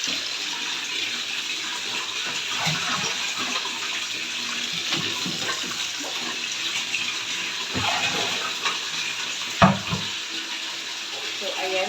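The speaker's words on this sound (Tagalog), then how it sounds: "Saka ako lagay na naman ng tubig dito sa aming washing machine." Water pouring into a washing machine tub, a steady continuous rushing hiss throughout with a brief louder clunk near the end.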